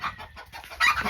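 A chicken at a nest clucks in a few short, close, soft bursts, with a slightly louder cluck near the end.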